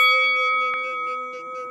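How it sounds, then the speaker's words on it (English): A notification bell chime rings in sustained, bright overlapping tones through the whole stretch, with one sharp ding near the middle, loud and close. "Hit that notification bell, something like this. Bing!"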